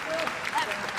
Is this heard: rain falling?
no